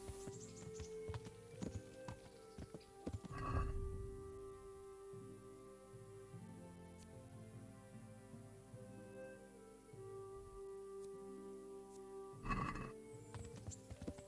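A horse in the video game Kingdom Come: Deliverance whinnies loudly twice after a whistle, several seconds apart, over quiet background clatter and faint hoof-like clip-clops, with a clean recorded quality.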